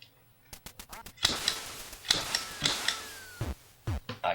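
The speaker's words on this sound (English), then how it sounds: "Even though I missed a duck here and there" Repeated quacks from the NES Duck Hunt video game come in a run of bursts between electronic game effects and short blips, fairly loud and with no voices.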